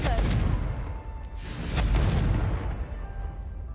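A Confringo fire spell explodes in Hogwarts Legacy, delivering loud rumbling booms with a whooshing burst, a second blast swelling midway, all dense and close against the game's sound.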